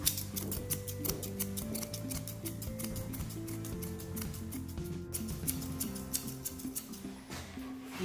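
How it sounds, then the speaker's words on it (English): Rapid scissor snips of grooming scissors cutting deep into a Bouvier des Flandres dog's coat repeat in a steady, close rhythm over a bed of soft background music, with no one speaking. "I'm going quite deep with the scissors"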